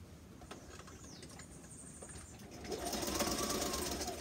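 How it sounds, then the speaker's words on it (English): A sewing machine stitches a fabric face mask with a rapid, steady mechanical patter, close and moderately loud, growing busier toward the end. "I'm going to sew it in place"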